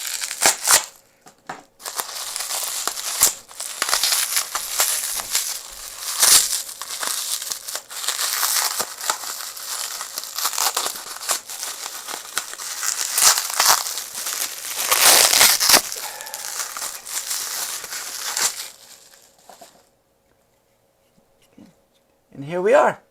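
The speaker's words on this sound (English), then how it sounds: "So, let's get this unwrapped." A package from an Etsy 3D-printing store being unwrapped, loud crinkling and crushing of packaging with tearing bursts in uneven waves, then quieter near the end.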